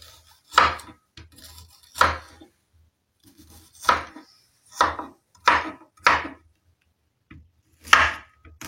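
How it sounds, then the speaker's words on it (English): Knife chopping onions on a board: seven separate sharp chopping thuds, spaced roughly a second apart with pauses between, close and clear, with no speech. "Let me now start cutting my onions."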